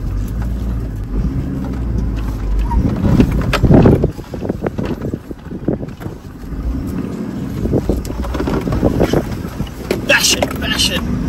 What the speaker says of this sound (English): Now to make a U-turn in the soft sand.